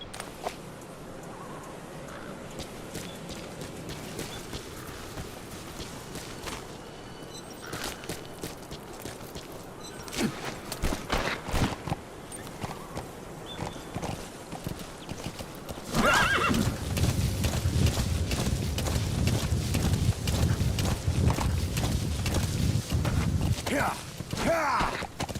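A horse in the video game Metal Gear Solid V whinnies and clip-clops, with hoofbeats building into a louder, rougher run near the end under a game soundscape.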